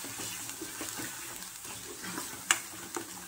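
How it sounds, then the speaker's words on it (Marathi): Ground masala paste of roasted onion, tomato, coconut and garam masala sizzles in hot oil for egg curry, a soft crackling fry with scraping stirs and one sharp clink of a spoon against the pan. "हे सगळं भाजून ना असं मिक्सरला बारीक करून घेतलं एकत्र आणि त्याची आता तेलात टाकलेलं आहे"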